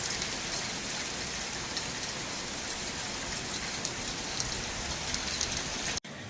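A hailstorm pelts rooftops in a steady, dense patter of ice hitting roofing, loud and continuous throughout with no voices, breaking off abruptly just before the end.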